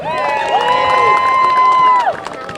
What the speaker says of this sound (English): a round of applause for Groundwork Lawrence